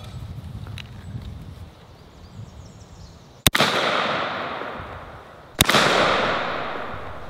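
A shotgun loaded with buckshot fires twice at a target 50 feet away outdoors. The two sharp, loud blasts come about two seconds apart, each followed by a long echoing tail, over a faint hum before the first shot.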